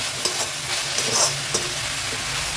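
Greens with pepper and tomato sautéing in a pan, a continuous bright sizzle broken by a few soft scrapes and stirs of the spoon, close and steady with no talking.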